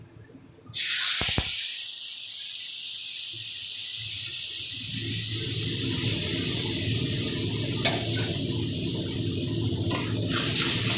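A soaked paste of turmeric and cumin powder hits hot oil for a raw-banana kofta curry, bursting into a sudden loud sizzle that settles into a steady, close frying hiss with occasional stirring sounds.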